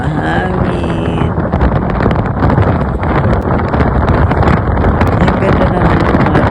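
Strong, steady wind roaring and buffeting a microphone on a rainy day in Mauban, Quezon, a continuous loud rush with brief fainter sounds at the start.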